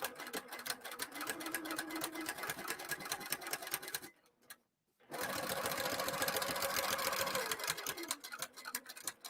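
A sewing machine stitches and back tacks on a bag, running in a fast, close, even rattle that stops briefly midway and then resumes, with no talking.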